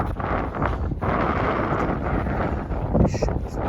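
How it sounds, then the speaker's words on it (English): Strong wind buffets an outdoor microphone with a steady, loud roar around an hour after sunrise on a winter morning, gusting continuously for a few seconds with a brief rustle near the end. "Holy shit, this wind is crazy"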